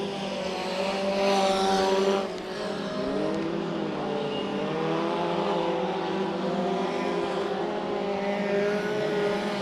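Mini stock race cars circle Bakersfield Speedway, their engines droning and rising in pitch as the pack sweeps through the turns. The sound is steady and moderately loud, with no talking.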